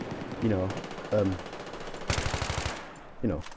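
Gunfire in the video game Battlefield 3: a short burst of rapid automatic fire between brief bits of talk, loud and close.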